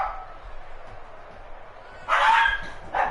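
A dog barks twice, a longer bark followed by a short one, loud and close against a quiet background.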